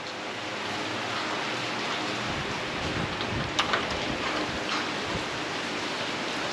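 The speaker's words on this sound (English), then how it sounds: "it is raining." Steady rain falls on a rainy market day in Badoc, Philippines, a continuous broadband hiss of drops on surfaces with a faint rumble underneath and a couple of brief louder spatters.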